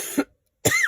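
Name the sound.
cough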